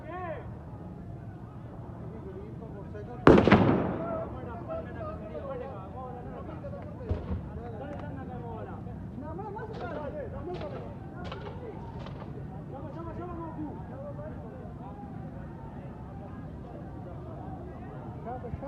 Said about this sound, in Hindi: ये फायरिंग की आवाज़ें आप सुन रहे हैं